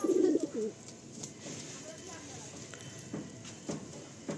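A pigeon gives a brief, bubbling coo up close at the start, then the loft falls to a quiet murmur of faint background sounds and light taps.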